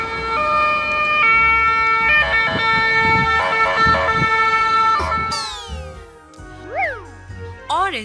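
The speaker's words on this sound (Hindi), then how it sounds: "White ambulance." A cartoon white ambulance siren wails loudly among chiming musical tones, then gives way to sweeping, swooping electronic sounds.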